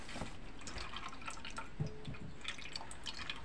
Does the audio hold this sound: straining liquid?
yes